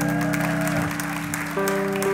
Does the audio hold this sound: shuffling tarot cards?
no